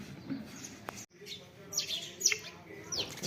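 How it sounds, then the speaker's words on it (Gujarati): House sparrows chirp near their nests at a home, with several quick bright tweets scattered over faint background sounds and a brief pause partway through. "ચકલીઓના માળા જોઈ લો, કિલોલ કરે હો ચકલા."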